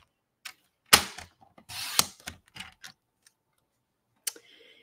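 Handmade card stock is trimmed with a paper cutter, making sharp clicks and a short sliding cut, a few smaller taps, and one last click, all close and with no talking.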